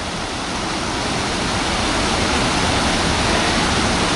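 Water rushes down a small rocky chute at Lula Lake, a loud, dense and unbroken roar heard close with no voices.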